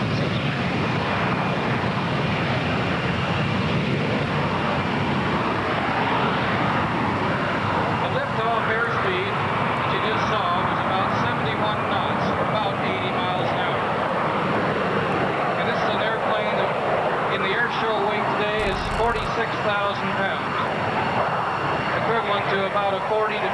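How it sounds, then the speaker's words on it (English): A fixed-wing turboprop commuter aircraft, sized for about 40 to 50 passengers, roars steadily as it flies a low-speed 360-degree circling departure. The engine drone holds loud and continuous under a narrator's voice. "In this 360-degree circling departure, we're showing the maneuverability of the aircraft"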